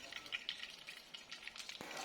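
Oil sizzles and crackles steadily as flour-coated chicken fries in a pan, with occasional stirring and spattering close by.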